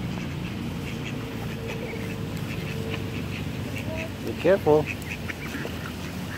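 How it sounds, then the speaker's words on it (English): Ducks quacking in a short burst of calls while being fed outdoors, the quacks rising above steady background noise with people talking nearby. "There's a lot of ducks."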